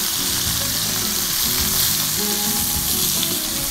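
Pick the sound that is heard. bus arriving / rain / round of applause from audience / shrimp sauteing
shrimp sauteing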